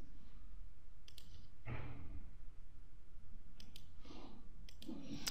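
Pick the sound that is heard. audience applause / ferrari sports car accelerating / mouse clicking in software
mouse clicking in software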